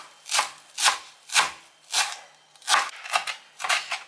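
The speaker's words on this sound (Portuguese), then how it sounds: "eu vou cortar o cilantro" A knife chops cilantro on a board in a kitchen, with about nine crisp, evenly spaced strokes that come quicker toward the end, close and moderately loud, with no talk.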